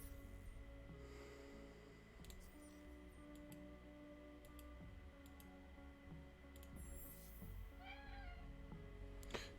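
A cat meows faintly in a quiet room, a short rising cry near the end over a low steady background hum with scattered light ticking.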